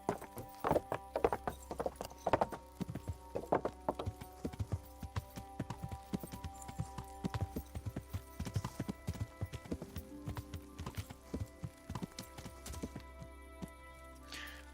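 Horse hooves clip-clop at a walking pace in the medieval game Kingdom Come: Deliverance, a close, regular series of hollow knocks that slows and scatters toward the end, with no talk.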